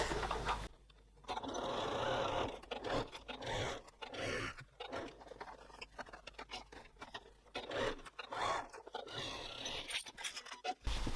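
A sewing machine stitches a pocket seam in steady runs, broken by brief pauses as the fabric is repositioned, with a close, continuous mechanical whir and no talking.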